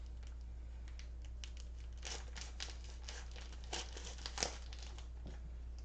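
A utility knife slices open a plastic-wrapped package of strip steaks in a kitchen, with a run of crinkling and tearing plastic in irregular bursts over a steady low hum, fairly quiet and close.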